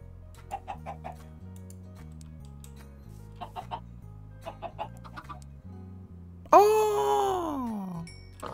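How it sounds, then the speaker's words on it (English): Chickens clucking in Minecraft, a series of short game clucks over a steady low background tone, followed by a loud, drawn-out falling cry near the end. "Chickens now use seed instead of wheat to breed."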